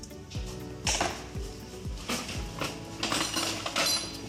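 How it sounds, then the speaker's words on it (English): A butter knife mixing sieved flour and sugar in a bowl makes a run of clinks and scrapes, about eight light knocks in an uneven rhythm, close and fairly quiet with no talk. "Taking a butter knife, we're going to use that later on, to mix it through so it's all even"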